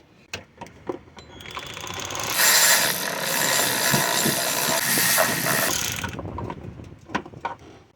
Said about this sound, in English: Now I'm gonna see if I can tighten the bolt a little bit from the top of the engine.